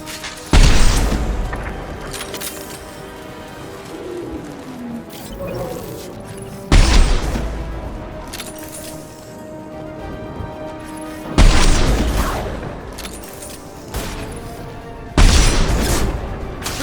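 Combat in the Mass Effect 2 game: four loud, booming sniper shots and explosions land at spaced intervals, each with a rolling rumble. Faint tonal game sounds run between the blasts.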